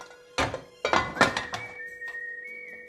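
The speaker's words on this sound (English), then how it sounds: "I'll close the lid" A pressure cooker lid being shut while a Mysore Pak is made, heard as two or three sharp metallic clunks and clatters, followed by a faint steady whistle-like ring that lingers.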